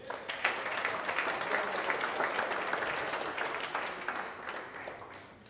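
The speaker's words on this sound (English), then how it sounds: "we'll get a round of applause for our judges" An audience gives a round of applause for the judges at a startup pitch competition, dense continuous clapping that swells early and slowly tapers off over several seconds, with no talking.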